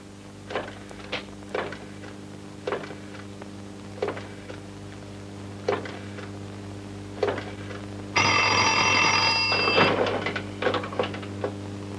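An old telephone bell rings in a classic Persian film scene, one loud, shrill burst of about a second and a half, preceded and followed by scattered soft clicks and taps in an otherwise quiet room.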